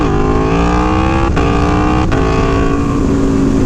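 An Aprilia Tuono V4 Factory engine revs hard in second gear for a wheelie, a loud, close, sustained roar whose pitch climbs and dips with two brief breaks.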